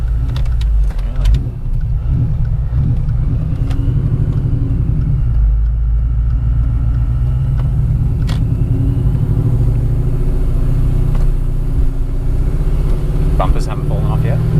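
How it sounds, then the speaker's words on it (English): Supercharged S62 V8 of a crashed BMW E39 M5 with no bonnet, heard from inside while driving: a loud, steady engine rumble and drone throughout, with people talking over it. "I think I'm hearing a funny noise, but I think it's the supercharger."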